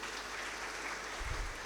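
Church congregation applauding after a sermon prompt, a steady wash of clapping held at an even level throughout, with a low rumble swelling near the end.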